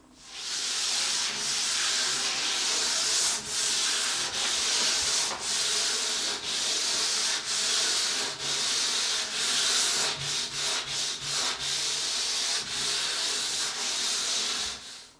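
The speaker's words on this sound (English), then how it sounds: "So everything on the desk now will get sanded with 400 grit sandpaper" A wooden roll top desk is hand sanded with 400 grit sandpaper in steady, close, rhythmic back-and-forth rasping strokes that continue without a break.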